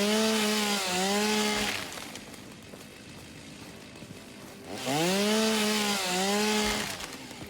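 Chainsaw revving and cutting through trees in the video game Satisfactory: two loud bursts of buzzing engine whine with pitch dips, separated by a quieter idle gap.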